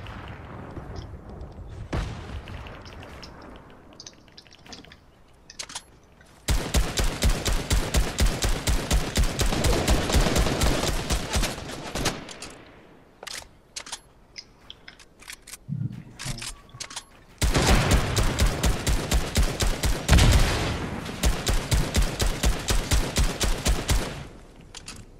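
Rapid automatic gunfire in Fortnite during a duos match, two long loud sustained bursts of evenly spaced shots separated by quieter stretches with a few scattered single shots.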